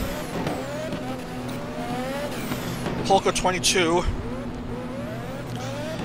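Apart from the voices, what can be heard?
race car engines in racing video game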